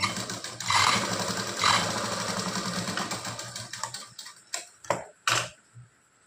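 A sewing machine stitching a blouse seam runs in a fast, steady mechanical rattle, close and alone, then slows into a few short, separate bursts before stopping.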